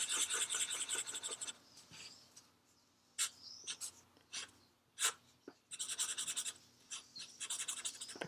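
A thick Sharpie marker draws an owl on paper, making close, squeaky, scratchy strokes in short bursts with brief pauses between them.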